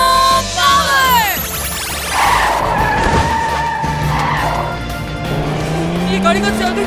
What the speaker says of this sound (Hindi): ये गाड़ी कहाँ से आ गई? ये गोल गोल क्यों घूम रही है?